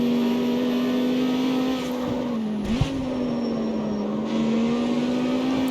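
Racing car in the CarX Street video game braking with a squeal, a steady high engine whine throughout and a brief sharp brake squeak partway through, loud and close with no talk.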